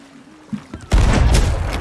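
Video game gunfire, a quiet lead-in with small clicks, then a loud sudden volley of shots that keeps booming and crackling to the end, no talk over it.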